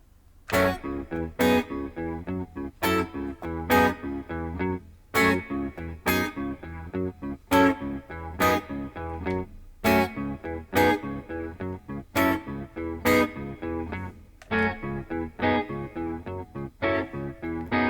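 A looping groove of rhythmic guitar chord stabs over a steady bass line, repeating evenly and loudly with a driving beat and no voices.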